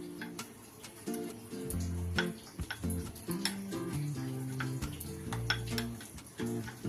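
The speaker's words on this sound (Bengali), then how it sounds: "এবার সবকিছু মিশিয়ে একটা সুন্দরভাবে ডো তৈরি করে নেব।" Hands mix paneer dough in a bowl, producing close, irregular soft squelches, taps and bowl knocks over a few seconds, with no voice.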